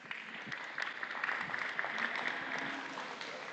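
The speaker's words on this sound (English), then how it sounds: "Let's give these kids a big round of applause" A crowd applauds kids at an FFA market lamb show at the Nebraska State Fair, a steady wash of clapping from a livestock show arena, moderately distant.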